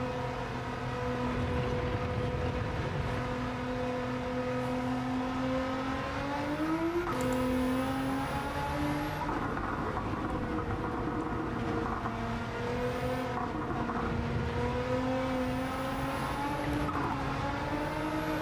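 A Nissan Silvia with a swapped engine in Gran Turismo 7 revs hard and steadily for the whole stretch, its pitch climbing and dropping as it shifts through gears, loud and continuous with no talking.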